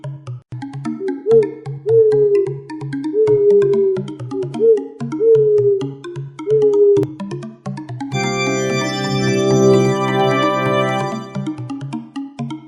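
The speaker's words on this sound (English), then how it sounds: "It's an owl." An owl hoots in a series of five or six short, evenly spaced calls, heard moderately loud over upbeat children's background music that continues afterward without the bird.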